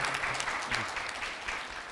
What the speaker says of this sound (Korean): 박수를 맞아주시죠.